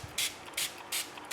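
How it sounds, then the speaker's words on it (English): Three quick hissing spritzes from a spray bottle misting water onto watercolour card, evenly spaced and close, with soft handling noise between bursts. "I'm going to spray some water on this card, because this is watercolour card"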